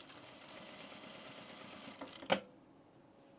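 A home sewing machine stitches thick layered fabric for a pair of men's pants, running as a steady motorized whir close by for about two seconds before stopping with a couple of sharp clicks, likely the presser foot.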